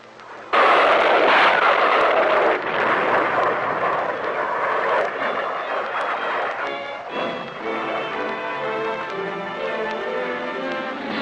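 Carrier aircraft roar low over a beach during an amphibious landing exercise, a loud sustained jet rumble that begins abruptly and stays steady, then eases slightly as it passes.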